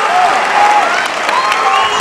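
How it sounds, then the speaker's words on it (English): A hook-and-shoot fight crowd applauds a triangle choke submission victory, with steady, loud, dense clapping throughout. "as this crowd shows their appreciation for a solid triangle choke victory"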